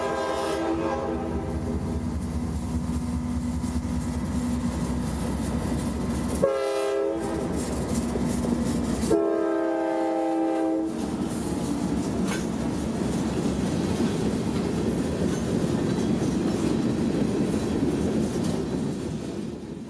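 Freight train L781, led by a single CM44AC locomotive running long hood forward with three cars, passes close by, its horn sounding in long blasts over the rumble and clatter of the train.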